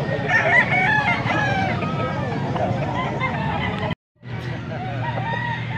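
Roosters at a rooster market in Bocaue, Pampanga, crowing and clucking repeatedly over a steady crowd babble, with people talking nearby; a brief dropout interrupts the sound.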